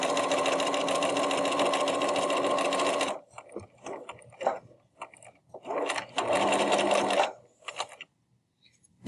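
A sewing machine stitches along the fabric edge of a reusable tote bag, running loudly and steadily for about three seconds, then in short stop-start bursts with quiet gaps and a final longer run, close up.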